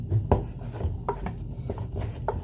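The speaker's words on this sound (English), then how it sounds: "So in the medium heat, just stir and stir and stir" Garden egg fufu being stirred in a pot over medium heat, a utensil scraping and knocking against the pot in irregular repeated strokes, close and fairly quiet, without speech.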